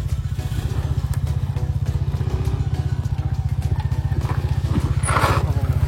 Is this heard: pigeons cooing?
no